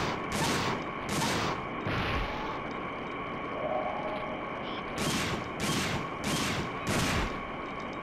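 Gunfire in the Dino Crisis 2 video game: a series of loud, sharp shots in uneven bursts, roughly six or seven blasts over several seconds against a steady game background drone.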